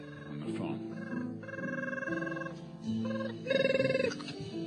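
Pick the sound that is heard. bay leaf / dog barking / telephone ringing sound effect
telephone ringing sound effect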